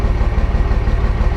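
A cold diesel engine runs rough just after a cold start, with a loud, close, low throbbing and a fast uneven pulse of chugging knocks that never stops.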